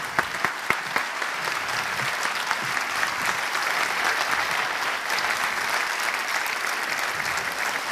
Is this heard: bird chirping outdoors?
no